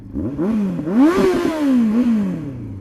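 A motorcycle engine catches and fires up after a pop start in second gear, rising into a close, loud rev with clattery mechanical tone, then settling as the pitch falls away.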